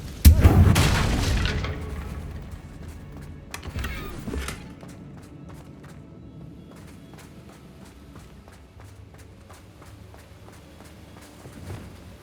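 A heavy blast from the Confringo spell striking a bridge in Hogwarts Legacy, a loud boom at the start with crumbling debris, then a second smaller impact and quieter footsteps and rustling.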